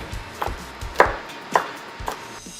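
A knife slices through vegetables on a cutting board while prepping paella, four or five distinct chops at an unhurried, even pace, close and clear with no talk.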